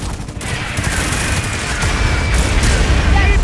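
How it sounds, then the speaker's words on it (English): Artillery and gunfire in Tom Clancy's EndWar roar as a dense, loud, continuous barrage of booms and crackling bursts that builds slightly in intensity across the battle. "Artillery fire in our position."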